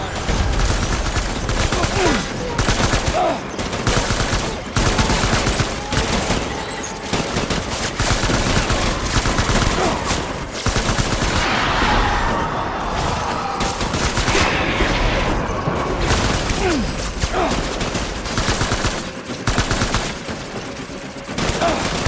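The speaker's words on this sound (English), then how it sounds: "Opening fire." Continuous gunfire in the video game Death Stranding: dense, loud bursts and rapid shots that fuse into a near-constant fusillade, with short gaps and some brief game voice beneath.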